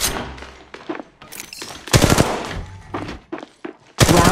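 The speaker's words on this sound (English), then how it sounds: "Shots fired at me." Bursts of gunfire from Apex Legends Mobile, a battle royale shooter, crack out in rapid, loud volleys with short gaps, several distinct clusters of shots across the stretch.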